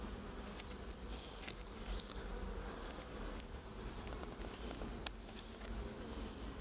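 Honeybees buzz steadily around their hive at the end of the beekeeping season, a dense close swarm hum with occasional louder passes of single bees near the microphone.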